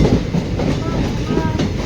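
A train runs through hilly country in Assam on the Guwahati to Silchar line, giving a steady close rumble with rhythmic wheel clatter throughout.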